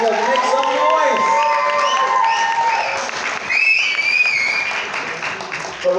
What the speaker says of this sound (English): Let's have a huge round of applause, and yes, let's make some noise.